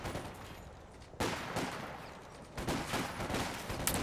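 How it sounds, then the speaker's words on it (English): Rifle fire in a real-time strategy game match: bursts of gunshots crack out in uneven volleys, loud and close, with no talking. "So he's actually shooting three rifles at this, one rifle at this."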